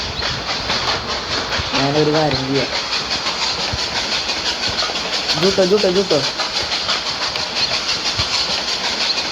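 A train rolls steadily along rails in the Roblox horror game Choo-Choo Charles, a continuous hissing, rumbling rail noise that runs the whole time while people talk over it.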